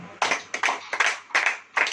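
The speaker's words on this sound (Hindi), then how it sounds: "ताली बजाओ।" A church congregation claps hands in a loud, close, rhythmic pattern of about five sharp bursts in under two seconds, with no voices over it.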